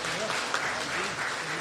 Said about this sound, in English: another round of applause to Jacques Tron